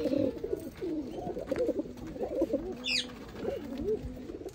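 A pair of Sialkoti pigeons coo repeatedly in soft, rolling low phrases close by, with a brief higher bird chirp partway through.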